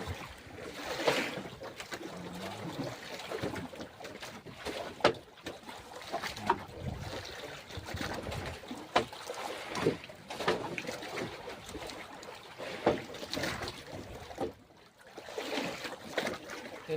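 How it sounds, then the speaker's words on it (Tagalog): Strong river current rushing and churning near a small boat while fishing from set lines, a steady loud wash of water with splashy bursts throughout, carrying on without pause. "Ang agos oh."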